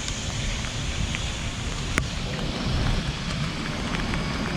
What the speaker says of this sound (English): This rain is getting harder and harder